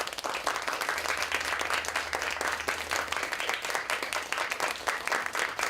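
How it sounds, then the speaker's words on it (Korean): Theatre audience applauding as the curtain falls at the end of a performance, dense sustained clapping from many hands filling the room evenly throughout. "관객들의 박수갈채 속에 막이 내렸습니다."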